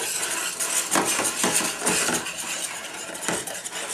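Dry dough ingredients for whole-wheat tortillas or loaves, including gluten and salt, stirred in a stainless steel pot, giving repeated metallic scrapes and clinks of a utensil against the pot walls, close and steady.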